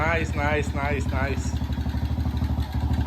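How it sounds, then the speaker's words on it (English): A Kawasaki KLX 110 dirt bike, kick-started on the first try, runs at a steady close-up idle with a rapid putter while someone talks over the engine. "All right, bike starts first kick."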